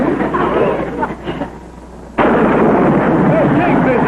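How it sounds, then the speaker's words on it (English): Thunder from an approaching storm breaks suddenly into a loud, sustained crashing rumble after a quieter stretch, with voices heard beforehand. "Hey, Kingfish, there's a storm coming up."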